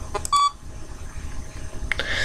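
Warning beeps from the ventilation malfunction alert in the video game Five Nights at Freddy's 3: a steady electronic tone early on, then further brief beeps near the end over low background hum.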